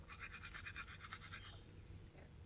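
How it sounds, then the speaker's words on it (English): Rapid scrubbing strokes of a toothbrush on teeth, close and steady for about a second and a half, then fading into quieter rustling with the low hum of a parked car's interior behind. "Now we're gonna brush my teeth."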